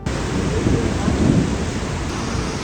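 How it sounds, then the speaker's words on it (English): Hail and rain pound down hard at a petrol station during a thunderstorm, a dense, loud, continuous roar with low rumbling swells. "it started hailing so bad, man"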